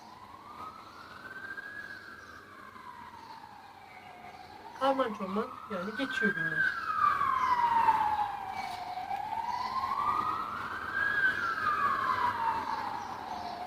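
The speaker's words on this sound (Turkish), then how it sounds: "Ambulans sesi var." An ambulance siren wails, rising and falling in slow sweeps, fairly close and growing louder, while a person speaks briefly over it.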